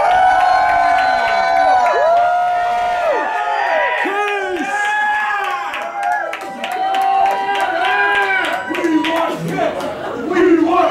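A crowd gathered outside a morning television studio for a Kiss appearance cheers and whoops together, loud and sustained, with scattered shouts and voices rising over the din.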